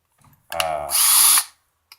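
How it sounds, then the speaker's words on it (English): A drill reaming out a metal flange for a wind generator mount, with one short close whirring burst that rises in pitch and then cuts off, followed by a faint tick. "the key to reaming stuff, I think, is to you know, a steady medium speed with something"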